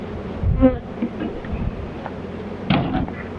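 Honeybees buzzing around an opened hive while colonies are being expanded, a close droning hum with a passing bee's pitch rising and falling near the ear.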